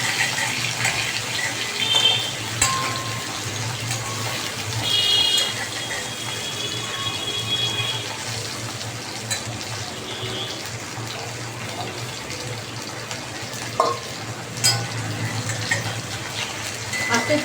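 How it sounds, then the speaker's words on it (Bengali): Hilsa fish and eggplant fry gently in a pan over lowered heat, giving a long, even sizzle with occasional brighter spits and crackles, close by and steady throughout. "হালকা করে ভাজবো।"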